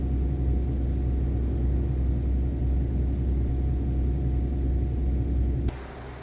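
Low steady diesel rumble of a gold MAN TGX truck cruising a quiet road in Euro Truck Simulator 2, constant and moderately loud, then suddenly dropping away near the end.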